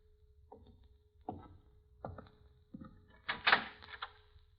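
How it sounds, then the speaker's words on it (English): A door is worked open in a 1944 crime mystery radio drama. Several separate creaks and knocks grow louder into a rattling scrape, over a faint steady hum with no voices. "Open the door, Vince."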